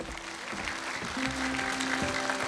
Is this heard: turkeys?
no